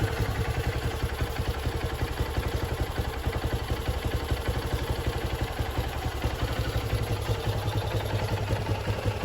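Carbureted Honda XR150L motorcycle engine idling while still cold, a steady close rhythmic low chug with mechanical clatter running continuously and evenly, no voices.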